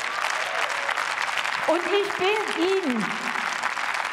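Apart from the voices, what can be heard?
applause in parliament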